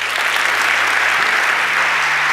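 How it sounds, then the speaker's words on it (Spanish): Sustained, dense audience applause welcoming Mario Weiss to the stage at an investment talk, steady and loud throughout with no pauses. "Recibamos con un fuerte aplauso a Mario Weiss."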